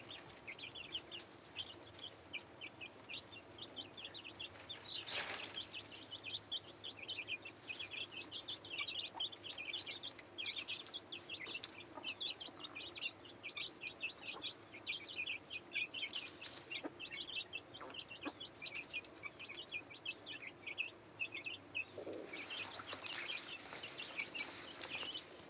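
Chickens cluck and chirp steadily while being fed cut rice stalks, a busy flock of overlapping calls at close range with occasional louder bursts.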